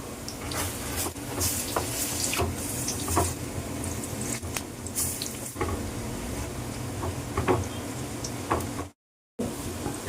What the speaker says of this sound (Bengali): তেলটা আমার গরম হয়ে গেছে আমি এবার বড়াগুলো ভাজব